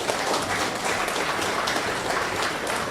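Audience applause at the San Fernando Carnival Committee prize giving ceremony in Trinidad and Tobago, a dense, sustained wash of clapping from a crowd, steady and fairly loud for three seconds with no voices on top.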